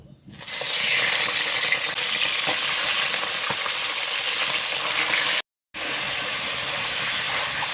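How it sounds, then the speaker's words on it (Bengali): Chicken pieces hit hot oil already used for frying potatoes, setting off a loud, dense sizzle that starts abruptly and holds steady, briefly cut off near the end before resuming, with no voices. "এখন বন্ধুরা এই চিকেনটাকে ভেজে নেব।"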